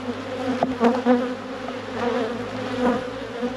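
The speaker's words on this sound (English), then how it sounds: "It's a really good cluster of bees" Honey bees hum in a dense cluster inside a hive, a steady, close, droning buzz with a few louder individual passes rising briefly above it.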